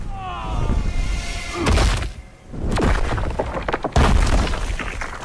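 An Egyptian monument smashed apart during Black Adam's super move in the Injustice 2 fighting game, heavy booms and crumbling crashes in several bursts, with voices and game effects over them.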